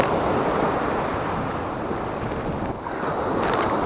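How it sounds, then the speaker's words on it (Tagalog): Choppy sea on a fishing trip, a continuous rough wash of waves and wind buffeting the microphone, loud and close with no voices. "Medyo maalon ngayon, pero ganyan nga maganda."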